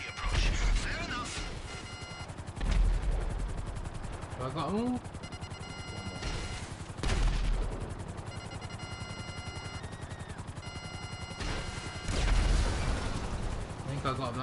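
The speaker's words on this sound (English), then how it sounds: "I deduce from the sound of gunfire that you have not gone for the stealthy approach." Sharp bursts of gunfire crack out in several clusters amid game-style effects in GTA V Online, with someone speaking briefly between the shots.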